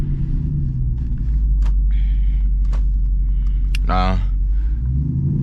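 A straight-piped SRT Jeep exhaust holds a deep, steady rumble throughout, running constantly beneath a man's speech and a few brief background noises.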